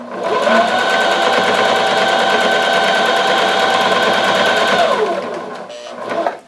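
A sewing machine runs steadily for about five seconds, backstitching over elastic on a pleated fabric face mask, then slows and stops with a brief clatter; loud and near, with no talking.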